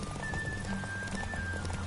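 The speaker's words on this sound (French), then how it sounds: "c'est pas Oswald hein, qui court, c'est son cheval." Hooves of a galloping horse in the video game The Witcher 3 beat in a steady, continuous rhythm at a fairly loud level, with a thin sustained tone running above them.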